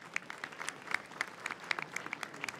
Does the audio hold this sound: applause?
yes